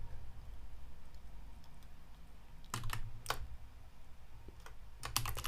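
Computer keyboard typing as a show name is entered into a Rust show tracker, with quick bursts of crisp key clicks in clusters separated by pauses, over a low steady hum.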